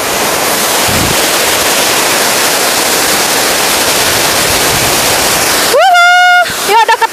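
Tirta Bhuana waterfall, a loud continuous broadband roar of falling water heard up close, with a brief burst of voices talking near the end.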